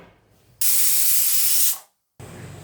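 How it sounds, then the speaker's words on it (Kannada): Pressure cooker on the stove, cooking vegetable bath with salt and ghee, lets out one loud sustained steam hiss of about a second, then stops and a quieter kitchen background resumes. "ಎರಡು ವಿಷಲ್ ಬಂದ್ಬಿಡ್ಲಿ ಇದು"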